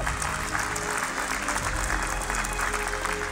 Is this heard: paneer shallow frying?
no